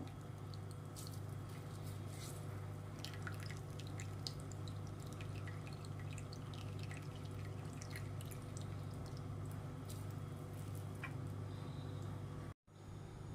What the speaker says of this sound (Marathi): घट्ट दाबून दाबून पाणी काढून घ्यायचं आहे